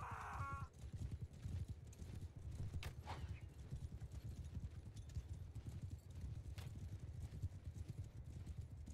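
Horses galloping during a video game battle between large armies, rapid continuous hoofbeats pounding loudly throughout with a brief tonal call at the very start and scattered clatter of battle.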